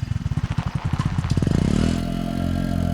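A motorcycle pulls up at night in a Malayalam film scene. Its engine thumps in rapid pulses that quicken and merge into a loud, close, steady idle.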